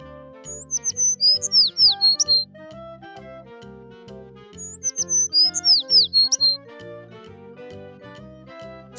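A sparrow gives quick high chirps in two short clusters, each set over a rhythmic musical backing with gaps between.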